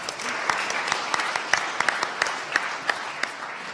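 Audience applause at an opening plenary of a political forum, a dense steady patter of many hands with a few sharper claps standing out, moderate and continuous for a few seconds.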